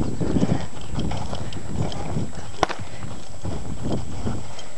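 A ridden horse cantering, hooves drumming in a steady rolling rhythm up close, with one sharp knock partway through and faint background voices.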